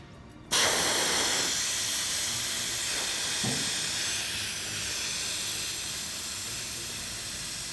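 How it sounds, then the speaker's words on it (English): Air rushing out of the inner tube of a Jabiru aircraft tyre: a loud, sudden hiss bursts on and then holds steady and strong, slowly easing slightly, heard close with no talking. "So I'll start off first by releasing the air out of the tube."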